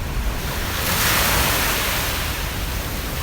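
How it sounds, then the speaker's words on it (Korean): Thin waves wash steadily over a coral sand beach beside the Anse Source d'Argent granite boulders, a continuous broadband surf hiss swelling slightly midway, with breeze and no voices. "산호가 부서져 만들어진 모래사장 위에 얇게 퍼지는 파도 소리"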